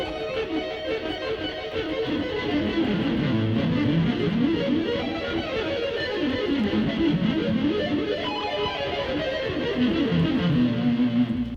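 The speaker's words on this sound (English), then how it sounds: "if I'm doing hammer-ons, a lot of times I'll double up on the first couple notes" Rapid electric guitar hammer-on runs in groups of six notes, the first couple of notes doubled, played fast, continuous and loud with no talking.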